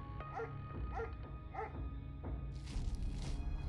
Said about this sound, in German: Der Hund ist etwas zu aggressiv.